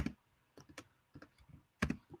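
Someone types on a computer keyboard during a word game session: scattered, close keystroke clicks in irregular bursts with quiet gaps between them.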